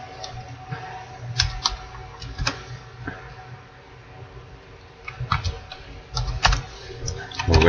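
Keys clack on a computer keyboard in irregular bursts of close, crisp taps with brief pauses between them, as a command is entered in CAD software.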